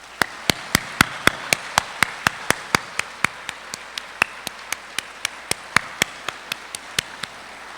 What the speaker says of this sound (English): Would the audience please join me for a round of applause for the members of our faculty and staff.